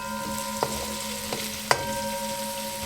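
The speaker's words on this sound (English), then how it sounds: "Right, so we've got our onions sweating down" Onions sweating down in a pan give off a steady soft sizzle, with a few sharp clicks of a utensil against the pan. No one speaks.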